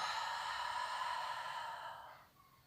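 One long, soft exhale during a relaxation breathing exercise for a pregnant woman, a close, breathy rush that fades gradually to quiet.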